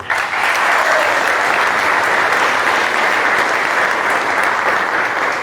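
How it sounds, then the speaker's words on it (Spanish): A crowd at a Bolivian political gathering breaks into loud, sustained applause, dense clapping that holds steady for several seconds with no talk over it. "Un aplauso para él."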